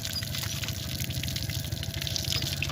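Water pours from a hand pump in the Cholistan desert, a steady splashing gush with a low rumbling churn beneath it, close and continuous.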